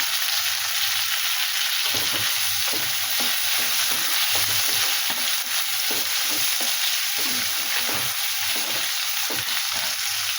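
Ingredients including cashews frying in hot oil in a pan, a loud continuous sizzle with rhythmic stirring scrapes and taps, close up and without talk.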